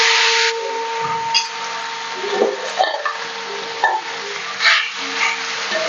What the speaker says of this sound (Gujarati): અને આપણે આ સકરિયાનું બધું નાખી દઈશું